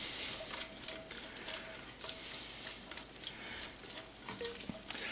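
Onions sweating in bacon fat sizzle softly and steadily, with a heat-resistant spatula scraping and stirring through them in scattered strokes, all faint and close with no talking.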